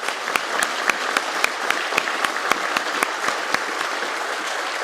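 Steady applause from a graduation audience honoring families at a fire-recruit class ceremony at the Department of Fire Services, Bridgewater, with a few sharp individual claps standing out from the continuous crowd clapping.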